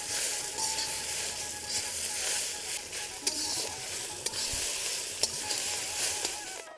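Onion and chili sizzling as they fry in a pan for a spicy dal, a steady hiss running throughout, with a few sharp clicks of stirring and light utensil knocks and no talk.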